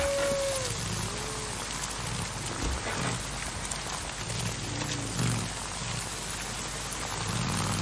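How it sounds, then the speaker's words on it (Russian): Heavy rain in the video game Days Gone, a dense, steady hiss of downpour lasting the whole stretch, with faint low engine rumble and brief game tones beneath it, no talk. "ливень опять фигачит"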